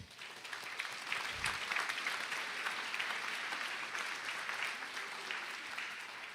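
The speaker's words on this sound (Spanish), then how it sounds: "Denle un aplauso a nuestro Rey." A church congregation at a Sunday worship service applauds, a dense, sustained wash of clapping from many hands that holds steady at moderate volume for over six seconds, with no gaps.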